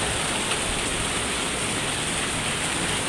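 Heavy rain splashing in under a dome shelter, a constant dense hiss of downpour with no break, loud and close, alone without voices.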